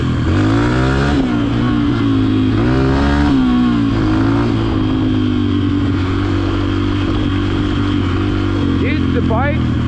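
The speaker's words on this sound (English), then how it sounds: "if I'm idling and I hammer it like really fast like this, it'll go down" A carbureted pit bike engine revs up sharply from idle and drops back, loud and close, with varying pitch sweeps as someone talks over it.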